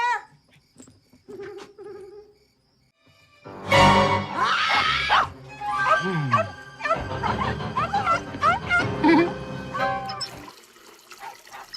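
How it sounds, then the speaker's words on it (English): A dog barks indoors at night in a house in a horror film scene: a loud, busy run of repeated barks after a quiet opening, fading out near the end. "Stop barking."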